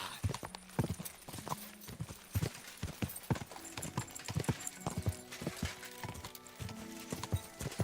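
Rhythmic clip-clop of horse hooves in a video game (Kingdom Come: Deliverance 2), steady and fairly close, with a brief whinny-like sound and faint background music.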